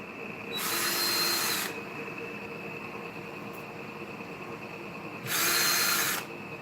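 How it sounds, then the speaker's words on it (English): A power drill whirs in two short bursts about a second each, drilling out holes for guitar machine heads, separated by a few seconds of quiet room hum. "I'll drill these out just a little bit."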